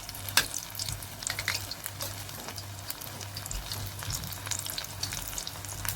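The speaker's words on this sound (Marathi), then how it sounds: "त्याचा कलर गोल्डन होईपर्यंत आपण तळून घेणार आहे." Matar rolls, pea-filled snacks, deep-frying in oil over a medium gas flame until golden, giving a steady close bubbling sizzle with light crackles and an occasional stir, no voices.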